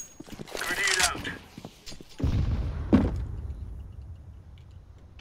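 A grenade goes off in Counter-Strike with a loud, deep boom after a short scuffle of footsteps and game noise, followed by a low rumbling tail; a voice calls out briefly just before.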